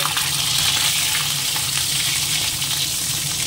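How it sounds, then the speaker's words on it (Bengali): Potatoes sizzle loudly in hot oil in a wok, a dense, steady crackling fry heard close up and unbroken, with no talking. "একটু আলুটা আগে ভেজে তুলে নেব"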